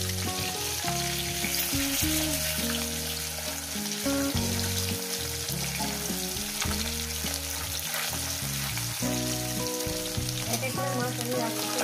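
Nylon tilapia fish pieces fry in a pan of hot oil, giving a steady, close sizzle that runs unbroken through the whole stretch, with music-like tonal layers sitting underneath.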